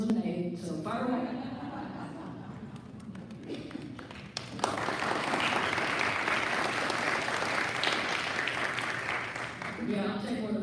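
A Rotary club audience at a talk bursts into loud, sustained clapping after a speaker finishes. A voice is heard briefly before the applause, and speech resumes as it fades.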